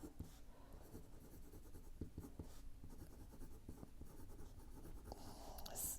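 A fountain pen with an oblique nib scratches steadily across paper, a faint continuous rasp with small strokes and ticks throughout, very close and quiet.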